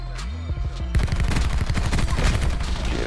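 Rapid automatic gunfire in a first-person shooter video game, loud and sustained, close-up bursts that fill the whole stretch after a short lead-in, with no talking.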